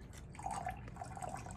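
Fresh water is poured into a container of salt water in a classroom ocean-density demonstration, a soft brief trickling and dripping stream, faint and close with no voices.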